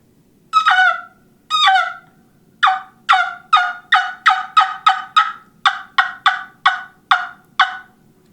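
Wing bone turkey call blown to make turkey yelps: two short opening notes, then a quick run of sharp, close, evenly spaced yelping calls, with no talking.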